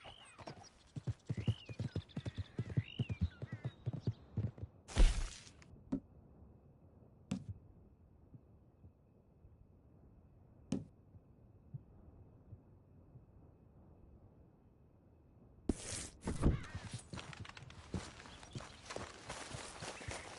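Horse hooves clip-clopping in Red Dead Redemption 2, a rapid run of close hoof strikes at the start, then sparse isolated thuds and clatters, and a busier burst of hoofbeats and movement toward the end.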